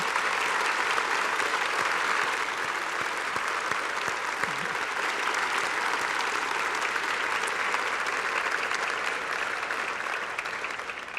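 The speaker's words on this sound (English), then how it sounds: "Please join me for one last round of applause for all of tonight's honorees." A seated audience at an evening military medicine honoree ceremony gives a sustained round of applause, dense steady clapping lasting over ten seconds before slowly thinning.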